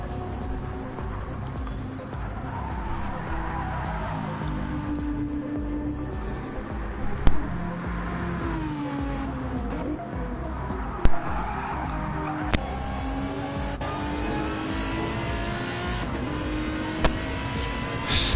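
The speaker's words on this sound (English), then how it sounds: "Such a glorious sound, isn't it, from the Aston Martin?" An Aston Martin GT3 race car in a racing video game laps Watkins Glen, a steady engine drone with shifting pitch as it accelerates and brakes, plus occasional tire squeals and sharp clicks.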